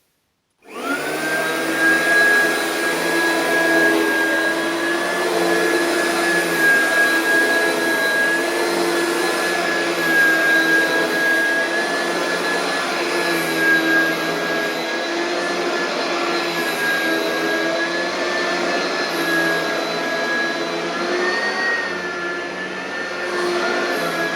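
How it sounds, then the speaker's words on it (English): An Oreck XL2800 upright vacuum cleaner starts abruptly and runs at a steady, loud, high whine with a constant motor hum, close by and continuous for over twenty seconds with only slight pitch wavering. "It's the lightest weight vacuum I have."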